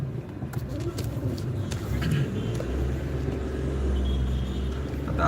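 A car engine rumbles low and steady at close range as it is driven into parking at the Mhaswad market, with faint background noise over it.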